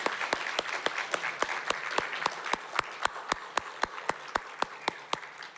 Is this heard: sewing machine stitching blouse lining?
no